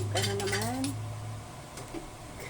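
Cutlery clinks and scrapes against dishes as pork kare-kare is spooned onto a plate, a few close, bright metallic knocks early on, then quieter handling.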